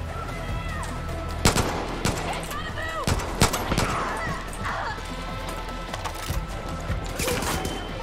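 Gunfire in the video game Far Cry New Dawn, with rapid shots and bursts cracking repeatedly over a dense, busy background throughout, and a player talking over the action.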